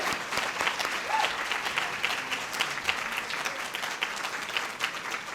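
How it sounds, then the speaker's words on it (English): Sustained applause from a luncheon crowd at a volunteer recognition event, dense even clapping at a moderate distance throughout with no pauses. "I think that deserves a round of applause."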